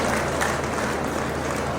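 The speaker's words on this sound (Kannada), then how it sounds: "ಈಗ ಎಲ್ಲರೂ ಜೋರಾದ ಚಪ್ಪಾಳೆಯ ಮೂಲಕ ಅವರಿಗೆ ಅಭಿನಂದನೆಗಳನ್ನು ಸಲ್ಲಿಸಬೇಕು." Audience at an international trade fair event claps steadily, a dense continuous wash of applause lasting the whole moment without pauses.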